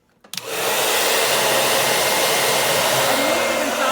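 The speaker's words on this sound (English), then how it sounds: "put the hair dryer to it like this and melt all the ice" A hair dryer clicks on and roars into a loud, steady, close blow aimed at the ice maker of a Samsung RF25HMEDBSR fridge with a clogged drain, melting built-up ice, continuous with no talking.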